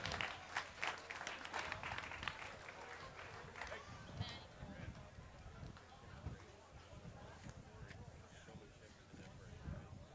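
Applause at a 4-H/FFA county fair swine show, a crowd clapping for a red Duroc gilt with scattered claps and an announcer talking over the arena noise.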